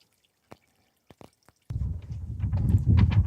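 Engine oil drains from a John Deere D155 lawn tractor, starting as a few separate drips and then becoming a steady, close stream splashing into a container.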